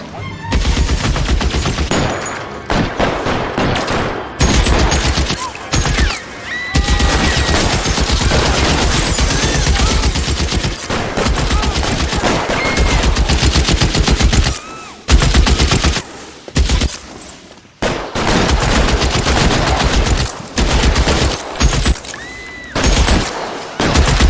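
Sustained bursts of automatic and rapid gunfire from a shootout in the L.A. Noire video game, loud and dense, with brief gaps between volleys over a continuous game backdrop.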